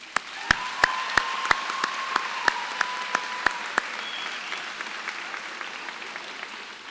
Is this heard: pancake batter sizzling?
no